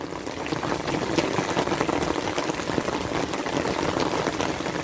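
Light drizzle falls outdoors in Hermenegildo Galeana, Acatlán de Osorio, Puebla, Mexico, a steady dense patter of fine drops continuing evenly and fairly close throughout, without voices.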